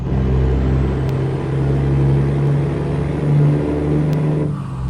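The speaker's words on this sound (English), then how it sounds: "making sure the truck gets onto the highway here." A heavy truck in American Truck Simulator, hauling an oversized load at night, drives steadily onto a highway with a loud, continuous low engine drone and a brief hiss near the end.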